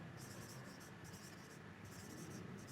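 Marker or chalk writing on a board in a physics numericals lesson, with rhythmic scratchy strokes in short bursts over a steady hiss, fairly close and soft.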